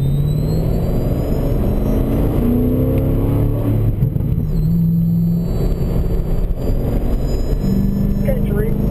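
A silver car drives past on a road with an engine hum that swells and fades over several seconds, steady traffic and wind noise throughout, and a voice talking over it.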